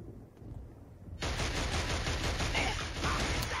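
Sustained rapid gunfire from the Killzone shooter erupts suddenly after a quieter stretch and keeps rattling loudly and continuously to the end.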